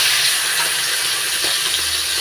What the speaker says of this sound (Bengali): এবার নুন হলুদ দিয়ে মেখে রাখা চিংড়ি মাছগুলো ভেজে নিচ্ছি।